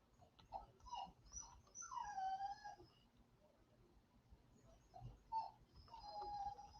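A dog whimpers and whines in short high-pitched bursts, fairly close and moderately loud, at a chat with several people present.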